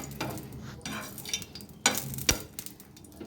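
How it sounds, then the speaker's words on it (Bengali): Mustard seeds and dried red chilies go into a small amount of hot oil for a fruit raita tempering, giving soft sizzling and crackling with a few sharp pops and spoon scrapes against the pan. "গরম করে নিয়ে এটার মধ্যে দিয়ে দেবো সর্ষে আর শুকনো লঙ্কা"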